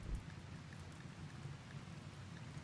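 Rain falling in RimWorld, a continuous soft hiss of drops with a faint low rumble beneath, unbroken and alone with no voices.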